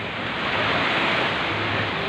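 Steady broadband surf from sea waves washing onto the shore, a continuous close roar with wind buffeting the microphone and no voices.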